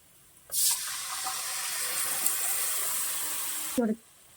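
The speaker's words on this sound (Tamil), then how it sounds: "இப்போ கரைச்சி வச்ச மோர் இது கூட ஆட் பண்ணிக்கலாம்" Diluted buttermilk pours steadily into a pan of tempered kozhambu in a home kitchen, a continuous bright splashing gush lasting about three seconds before stopping, with no talk over it.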